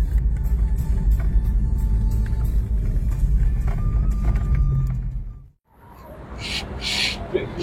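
A car pulls in to park at an event venue in Jakarta, its engine a steady low rumble that cuts out abruptly midway, leaving a quieter, hissy background.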